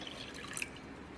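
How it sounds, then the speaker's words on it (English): Water pours into a bowl of dry elbow pasta while making microwave dorm mac and cheese, giving a soft, steady, faint trickling splash throughout. "Then pour in 1½ cups of water."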